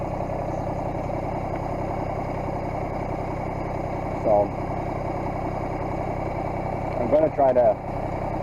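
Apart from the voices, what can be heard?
tractor engine running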